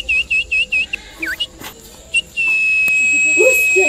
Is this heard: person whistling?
yes